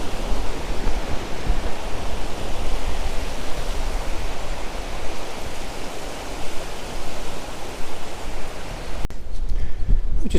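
A river flows near High Force waterfall. Its rushing water makes a loud, continuous broadband roar, steady and close, with no voices, and it shifts abruptly near the end.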